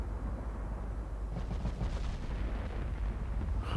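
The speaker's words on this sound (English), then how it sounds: "We're just gonna load HE and wreck it." Ultimate Admiral Dreadnoughts naval guns firing HE shells boom as a low, rumbling salvo beneath a steady roar of sea and engine noise, moderately loud and without any talk.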